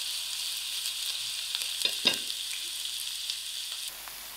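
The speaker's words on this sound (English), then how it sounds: "I'll allow these onions to fry up" Onions frying in a pan, a steady close hiss of oil with a couple of brief stirring clatters in the middle, fairly quiet and without any talking.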